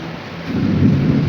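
A deep, loud rumble of thunder swells and rolls on for a moment over a soft wash of rain.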